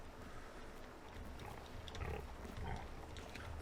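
Pigs grunt and oink inside a pig barn in Farming Simulator 19, several snorts close together over a low barn hum, with no talk.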